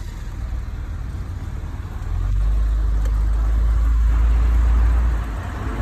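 An automatic car's engine runs close by with a steady low rumble that swells in loudness partway through, as if revved or put under load, then eases back slightly near the end; no one talks.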